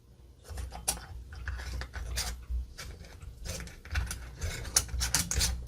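Metal screw rings being twisted onto glass canning jars filled with apple pie jam, giving a series of scraping, ratcheting clicks in irregular bursts, close and fairly quiet, with no voices.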